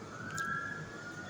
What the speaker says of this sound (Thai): เขาโทรแจ้งรถดับเพลิงแล้วเดี๋ยวเขาก็จะมาแล้วเนี่ยได้ยินเสียงไหม